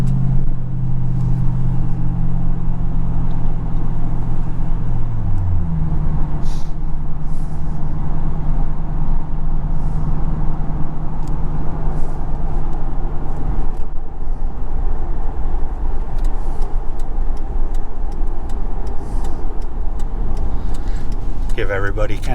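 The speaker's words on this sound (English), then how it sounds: "exhaust noise in the back of the car" A Ford Crown Victoria's exhaust rumbles steadily from the back of the car, a loud, low and continuous drone with an even idle note and no clear revs, while people talk faintly over it.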